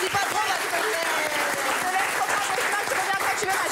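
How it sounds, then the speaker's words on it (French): Studio audience on a French TV talk show applauds a guest, steady dense clapping throughout with voices talking over it. "On applaudit Julia"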